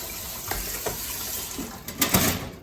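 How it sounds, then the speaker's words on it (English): Hot water running from a tap over an ice lantern mold, a steady splashing stream with a few louder gushes and spatters near the end, close and alone. "So I'm just going to run some hot water over that."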